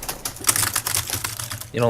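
A computer keyboard gets mashed during a game, a rapid burst of loud clattering keystrokes under a talking voice, ending with a short vocal sound.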